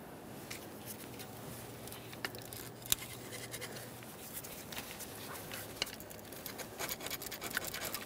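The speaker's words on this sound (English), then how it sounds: "We're trying to scrape all of this away from the ports leading into the engine," Faint, continuous scratching and scraping of a tool removing old intake gasket debris from metal around the intake ports of a Toyota Sienna 3.5L V6 engine, with small irregular clicks, steady throughout.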